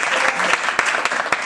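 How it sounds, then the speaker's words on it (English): Brisk audience clapping for the sponsors at a fashion event in Lendava, loud and close with a few sharper individual claps standing out, no voices over it. "applause for sponsors"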